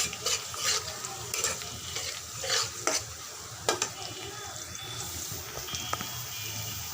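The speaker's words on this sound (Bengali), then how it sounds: "আলুগুলো ধুয়ে নিয়েছি, লাল লাল করে ভেজে নিচ্ছি।" Potatoes sizzle in hot oil while a utensil stirs and scrapes the pan in irregular bursts, fairly close.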